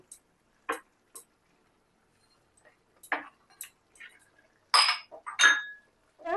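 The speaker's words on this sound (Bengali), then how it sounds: "এই আলুগুলোকে আমি এখন মিশিয়ে দিচ্ছি।" Sparse, light clinks and scrapes of a utensil against a pan as boiled, smashed potatoes and paneer are mixed for paneer chana masala, a few short separate taps with quiet pauses between.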